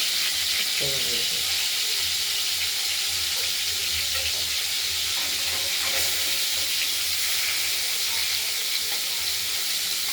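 Steady, dense sizzling of boal catfish pieces frying in hot oil in a wok, continuous throughout with faint clatters and soft background noise.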